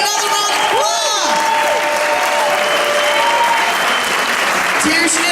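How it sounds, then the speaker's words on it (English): An audience applauds steadily at a movie premiere, dense clapping filling the room throughout, with a few faint whistles or cheers rising above it. "Can we give our director another round of applause?"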